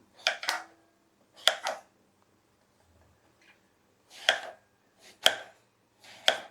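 A knife chops on a cutting board in short bursts of sharp thuds, with brief pauses between groups of cuts, close and clear.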